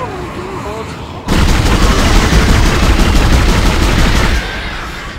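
Rapid gunfire from a large weapon in the Dead Space video game, a loud continuous burst of about three seconds that cuts in sharply and then drops off, with a faint voice before it starts.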